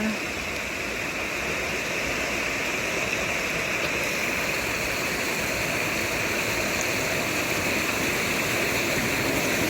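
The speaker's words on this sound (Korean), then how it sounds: "물소리 들리시죠?" Steady, full rush of a flowing stream on a mountain trail, continuous and fairly loud throughout, with no breaks.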